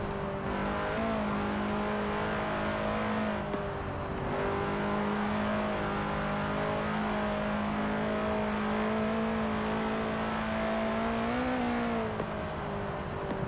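A Volkswagen van's engine drones steadily in Forza Horizon 4, holding a constant loud tone that rises slightly in pitch near the end with no pause.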